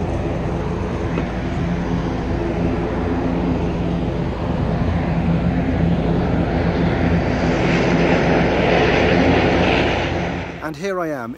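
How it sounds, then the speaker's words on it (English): Cabin of an Air Europa Express airliner in flight on a short island hop from Gran Canaria to Fuerteventura, a steady loud engine drone throughout that fades near the end as a voice begins. "It was a nice short and sweet flight with Air Europa Express."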